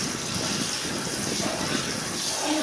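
Egg batter is poured into a pan of curry and stirred for a village-style egg fry, making a continuous moderate wet, rushing, pouring sound with no talk.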